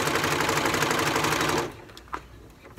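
A sewing machine stitches stretchy jersey fabric in a fast, even mechanical chatter for about a second and a half, then stops, leaving faint clicks and handling noises.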